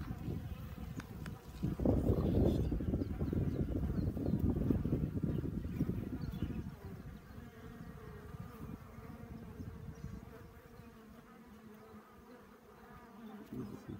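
A honeybee swarm buzzes in a dense, continuous drone outdoors. It is loudest early on, then eases to a softer steady hum, with faint rustling around it.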